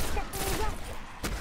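Bursts of gunfire from the video game Destiny, a short rapid volley under casual voices of players chatting.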